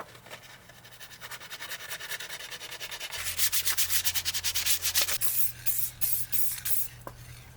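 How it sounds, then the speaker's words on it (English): Rhythmic scraping of sandpaper lightly sanding paint between coats on vintage trailer handles by hand, steady back-and-forth strokes that grow louder and more rapid midway, close to the listener. "Here I'm sanding lightly between layers of paint."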